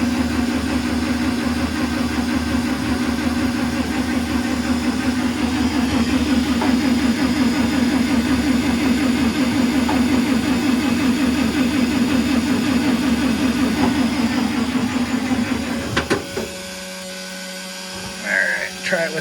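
A 1953 Dodge M37 truck engine with a manual throttle running at a steady mid-pitched idle for about fifteen seconds, loud and close, then cutting out abruptly and leaving near quiet.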